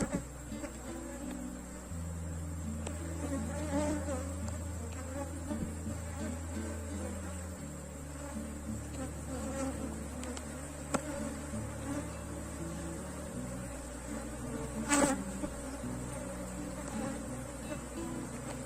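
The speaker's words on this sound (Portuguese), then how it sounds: "Vamos organizar o enxame." Honeybee swarm buzzing continuously while being organized into a hive box, a dense, close, steady hum with individual bees droning past and occasional soft knocks of handling.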